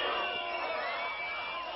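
Protesters in Tarbes boo and whistle as environment minister Corinne Lepage arrives, a steady crowd roar with whistles running through it throughout.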